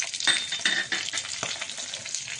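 Chopped onion and curry leaves sizzle in a hot pan, a close, busy crackling hiss with brief scraping stirs and a faint clink.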